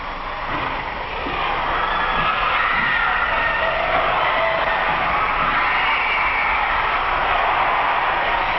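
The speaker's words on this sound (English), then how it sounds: "The cheerleaders had knocked themselves out on new yells and routines, and the new stuff sparked the whole cheering section." A packed crowd cheers and shouts at a school championship basketball game, a dense, loud, sustained roar of young voices that swells after the first second and holds steady.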